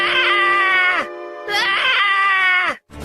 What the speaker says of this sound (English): suddenly, one of the men cried out